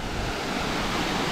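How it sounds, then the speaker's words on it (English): Seven Wells waterfall in Langkawi, Malaysia, with water pouring down in a steady, dense broadband roar that stays loud and unbroken from start to finish, with no voices over it. "That, g'day, is a waterfall."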